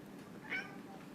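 A house cat gives one short, soft meow midway through a quiet moment, alone and faint against low room noise.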